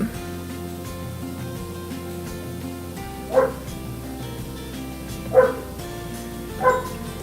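A dog barks three times, single sharp woofs spaced a second or two apart, heard from a short distance over a steady low household hum.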